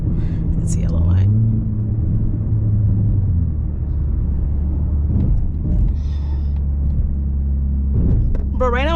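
A Mazda3 with a muffler delete idles and drives in evening city traffic, giving a loud, continuous low exhaust rumble with someone talking over it.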